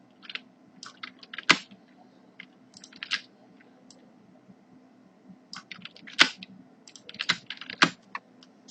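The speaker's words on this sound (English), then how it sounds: "have a look at what I'm typing" Typing on a computer keyboard while coding an HTML and CSS page: scattered bursts of close key clicks with a few louder strokes, over a faint steady hum, no speech.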